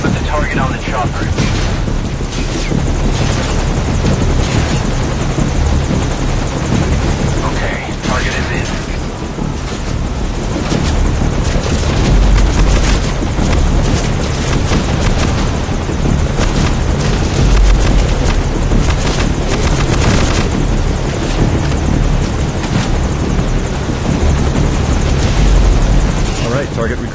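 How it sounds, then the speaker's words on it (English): A helicopter from the Metal Gear Solid V video game roars loud and constant for the whole stretch, a dense rotor and engine wash with faint voices buried underneath. "Target recovered, and we're on the chopper."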